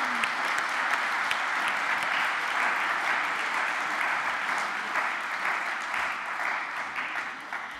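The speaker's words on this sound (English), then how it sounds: "a round of applause for Elena Bianchi" An audience at an award ceremony for heritage award winners claps steadily and fairly close for several seconds, with no talk over it.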